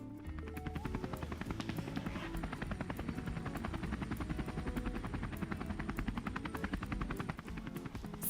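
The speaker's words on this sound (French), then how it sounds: "c'est un vrai hélicoptère" A helicopter with its rotor thudding in a fast, steady rhythm under a constant engine drone, loud and close throughout with no talk.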